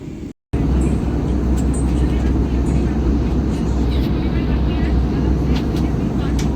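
Steady, loud broadband roar inside the cabin of an IndiGo airliner in flight, a constant low rumble and hiss that barely varies apart from a brief cut near the start.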